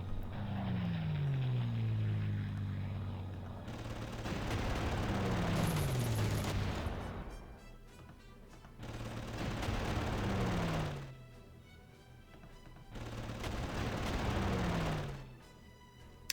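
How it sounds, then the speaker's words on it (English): Repeated rounds of gunfire and booming impacts shooting down a Spitfire in the Panzer Corps strategy game, four separate bursts each with a descending whistle-like tone, separated by quieter gaps. "And shoot down the Spitfire"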